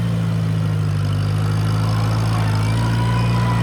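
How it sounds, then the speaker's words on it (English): Restored tractor engine running at full throttle in second gear while turning garden dirt, a steady loud droning hum with a constant low tone and no pauses. "we're gonna run 2nd gear. Full throttle. Let's let it rip, Tater Chip."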